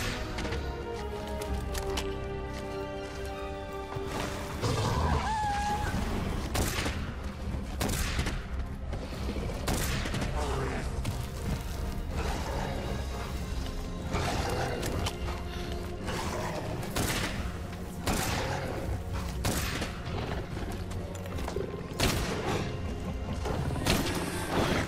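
Gunfire and booming impacts from the video game Monster Hunter: World rattle in rapid bursts over a dense layer of music and creature roars, loud and continuous throughout.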